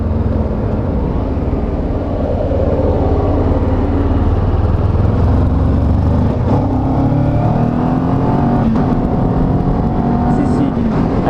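A Kawasaki Ninja 400 motorcycle engine drones steadily and loud throughout, pitch rising and shifting as it accelerates through the revs, with wind rush and someone talking over it.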